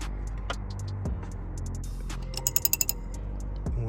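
A ratchet wrench clicks on a catalytic converter bolt of an E46 BMW, a few scattered close ticks and then a quick burst of crisp ratcheting clicks over a low hum.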